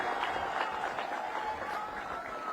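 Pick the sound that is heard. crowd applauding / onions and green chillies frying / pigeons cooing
crowd applauding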